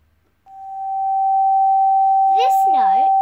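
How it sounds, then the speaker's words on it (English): A pure sine wave note starts after a short silence and holds as one clear, steady, loud tone, with a voice briefly speaking over it near the end. "This note is called a sine wave."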